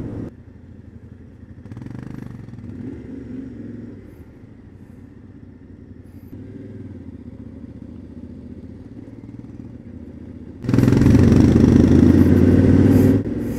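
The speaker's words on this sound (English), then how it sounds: "I love those sounds of the single cylinder." Single-cylinder motorcycle engine idling near a rugged hostel in Durres, a low uneven thump under faint background noise, then a sudden louder burst of revving near the end before it settles back.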